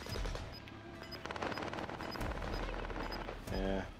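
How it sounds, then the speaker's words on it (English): Distant video game gunfire crackles in faint, rapid bursts and scattered shots, mixed with muffled voices and low background game noise. "that's the gunfire over there is what I'm getting on heartbeat"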